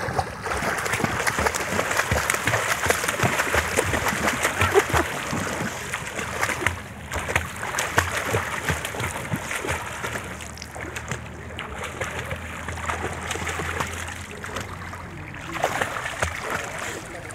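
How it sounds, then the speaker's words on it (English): Child swimming front crawl in a pool, producing continuous rhythmic splashing and churning water at close range for the full length, with no speech. "Show how you swim crawl."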